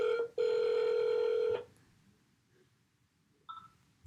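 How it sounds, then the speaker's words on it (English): A phone placing a call gives a steady electronic dialing or ringback tone, loud and continuous for over a second, then a brief quieter beep after a pause. "I'm going to call you, Angelina."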